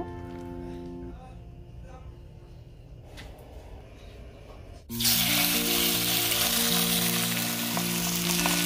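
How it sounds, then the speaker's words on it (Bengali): Beef slices dropped into a very hot frying pan with butter give a loud, steady sizzle that bursts in suddenly and carries on, after a quieter stretch of low kitchen noise. "প্রথমে আমি বিফের স্লাইসগুলোকে খুব ভালো করে ভেজে নিব।"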